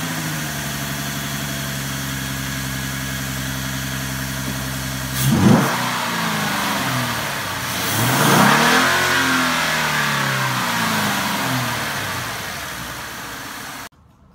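A V6 Mustang engine fitted with an Airaid bolt-on cold air intake idles with a steady rumble, then revs up twice in loud, close swells before settling back to idle and cutting off at the end.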